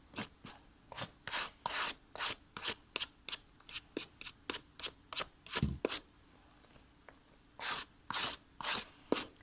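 Rapid bristle-brush strokes sweep suede eraser crumbs and dust off Moxi suede roller skate boots, a close, steady run of short scratchy swipes with a brief pause before the brushing resumes.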